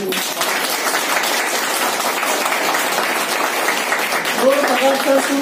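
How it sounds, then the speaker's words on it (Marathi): Loud, sustained applause from a crowd welcomes an honoured guest at a felicitation ceremony of the Bharatiya Bauddha Mahasabha in Badnera; dense, even clapping fills the whole stretch, with a few voices rising near the end. "सर्वांनी जोरात टाळ्या वाजवून सरांचं स्वागत।"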